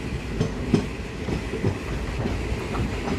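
Guntur-Rayagada Express passenger train rolls along steadily with a continuous rumble and rhythmic clickety-clack of wheels over rail joints, heard close from inside the carriage.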